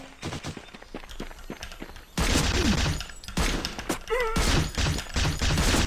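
Bursts of rapid gunfire in a PUBG-style Minecraft game, loud and close, with thumps and busy game noise between the volleys.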